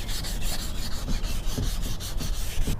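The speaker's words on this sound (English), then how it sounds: "Just sand that off." Sandpaper rubs back and forth on a metal engine-bay part to clear off skin oil. The close, steady rasping strokes come in a quick, even rhythm, with no talking.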